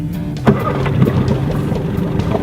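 An Evinrude E-Tec outboard boat engine cranks and catches at once, settling into a steady idle, with a sharp burst at the start and a continuous rumble after.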